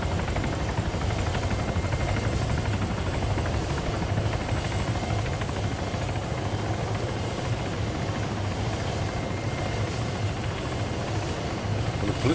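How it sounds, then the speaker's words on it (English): Helicopter flying in the Arma 3 Altis Life game, a steady dense rotor and engine drone running unbroken and fairly loud throughout, with no talk. "The helicopter has despawned."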